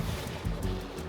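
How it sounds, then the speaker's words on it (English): A small waterfall along a hiking trail, giving a steady, close, rushing and splashing wash of water with a low burbling undertone and no voices. "So I've just decided that I'm at this little waterfall"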